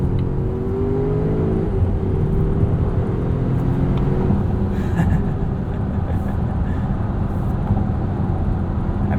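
A 2020 Volvo XC90 Hybrid T8 Inscription accelerates, heard as a steady, loud rush of engine and road noise from inside the cabin that holds without a break throughout, with no talking.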